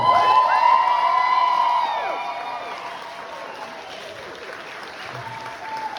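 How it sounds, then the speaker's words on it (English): Loud applause from a convention crowd with some cheering, strongest at first and then tapering to a steadier, softer clapping that continues to the end. "John Russo, give him a round of applause"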